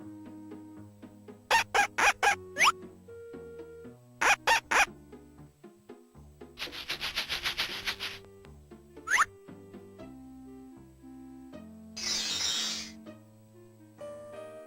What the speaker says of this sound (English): When it was time for Cinderella to feed the chickens, the mice headed for the barnyard.